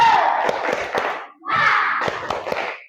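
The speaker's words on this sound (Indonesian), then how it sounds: "Kita tepuk semangat dulu ya nak ya" Schoolchildren chanting together in a rhythmic spirit clap, two loud bursts of shouting voices with claps, split by a brief pause.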